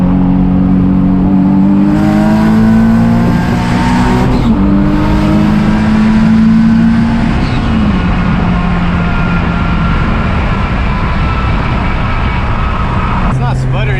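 A Nissan Z with a turbo engine that hesitates revs loudly and close under boost, its engine tone climbing and holding in long pulls with a brief dip midway.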